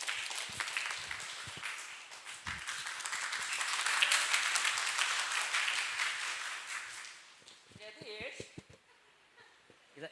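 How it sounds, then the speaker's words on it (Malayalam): An audience at a training session bursts into applause, building to a dense roar of clapping that swells, then thins and fades out, with a voice speaking at the start and end. "നല്ല ഭംഗിയായിട്ട് ഒരു കയ്യടി കൊടുക്കണം."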